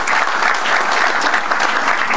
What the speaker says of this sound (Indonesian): sekali lagi tepuk tangan buat ketiga kopi kita